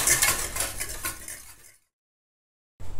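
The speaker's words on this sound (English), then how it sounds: "So give that a stir." A utensil stirs an exfoliating cleansing balm mixture in a container, making close scraping and clinking for under two seconds before it falls silent, then a brief return of sound.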